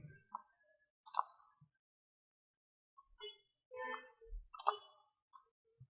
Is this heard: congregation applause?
no